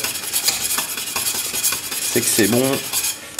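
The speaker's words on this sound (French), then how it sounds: "Et on agite sans cesse, ça va épaissir." A whisk scrapes and stirs rhythmically against a saucepan of thickening pastry cream, a steady metallic swishing, with a brief spoken voice near the end.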